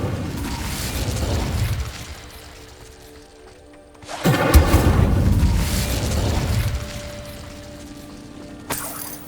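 Incendio fire spell in Hogwarts Legacy: a loud booming burst with a crackling, roaring tail, then a second strong blast after a brief lull, with a sharp small hit near the end.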